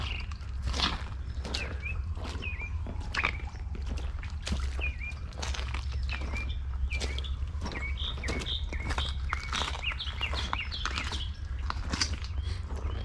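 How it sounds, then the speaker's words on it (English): Many birds chirp and tweet steadily outdoors, bright calls overlapping throughout, with footsteps crunching along beneath them. "Birds are glad to see me."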